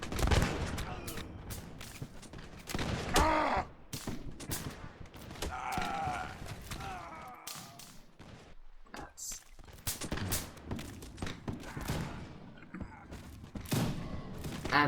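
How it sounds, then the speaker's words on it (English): Musket volleys crackle through a Napoleonic battle video game as French and Prussian armies clash, dense bursts of gunfire overlapping continuously with a thick roar of battle beneath a voice talking throughout. "With the sheer amount of musket shots going on, I'm not going to be able to line it up properly."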